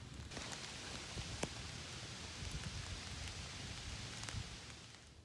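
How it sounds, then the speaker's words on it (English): Rain falls steadily on a campsite along the Manistee River Trail in Michigan, a soft continuous hiss with occasional sharper drops tapping close by, no voices. "It's raining."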